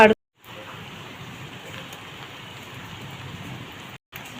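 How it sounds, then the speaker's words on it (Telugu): Heavy rain pours near a house, a steady broadband hiss that holds at an even level for about four seconds after a brief opening sound and a short gap. "ఈరోజు మా ఇంటి దగ్గర ఫుల్ వాన"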